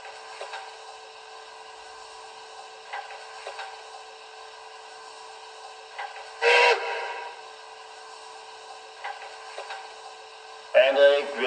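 A BR44 model steam locomotive hisses and chuffs faintly along a layout, with two short, sharp whistle blasts breaking through, one midway and one near the end.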